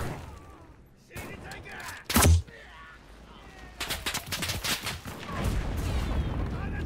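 Heavy gunfire and booming impacts in a war video game, a sharp loud blast early followed by a dense rattle of rapid shots building toward the end, with some talk mixed in.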